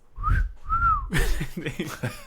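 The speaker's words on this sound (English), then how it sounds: "a strange whistling noise was heard throughout the home" A strange two-note whistle rises and falls twice, clear and close, followed by a burst of muffled talking.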